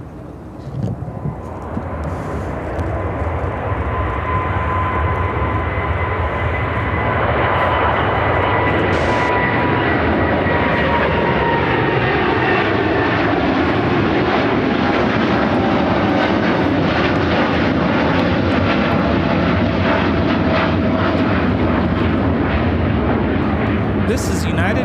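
A United Airlines Boeing 787-10 Dreamliner jet roars loudly and continuously on its takeoff from Chicago O'Hare, the engine thunder building early and holding steady with a slowly shifting whine, while voices talk faintly underneath.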